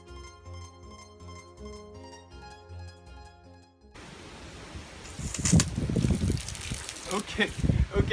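Water from a hose running into an empty gas bottle being made into a hang drum: after a few seconds of music, a rushing, gurgling pour starts and grows louder and more uneven as the bottle fills.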